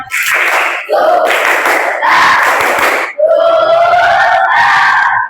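In a classroom, pupils loudly chant a spirited clapping cheer in unison, with phrases broken by short pauses and hand claps mixed into the shouted voices.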